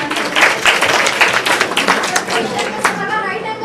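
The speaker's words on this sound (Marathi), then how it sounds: "टाळ्या वाजवा" An audience at a live Ayurveda lecture on joint pain claps together, a sustained crackle of many hands lasting several seconds at close range.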